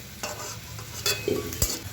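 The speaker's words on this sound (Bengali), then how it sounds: "এবার চিংড়ি মাছ দিলাম, ওগুলোকেও একটু ভালো করে হালকা করে আর কি ভেজে নেব নুন হলুদ দিয়ে" Shrimp frying in a pan with salt and turmeric: a low sizzle under sharp metal clatters from a spatula being stirred, with a few quick scraping strikes over two seconds.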